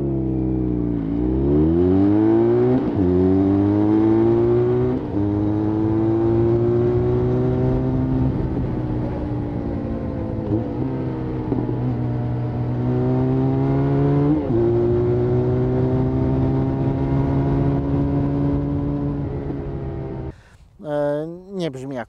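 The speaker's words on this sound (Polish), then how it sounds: "Słychać, że to nie jest duży silnik, ale nie brzmi ten wydech strasznie." A Benelli 502C motorcycle engine revving up through gears, its exhaust buzzing steadily and rising in pitch, close and loud, before cutting off near the end.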